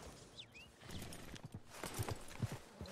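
Horse hooves clop on the ground in Red Dead Redemption 2, a handful of soft, irregular steps heard faintly at close range.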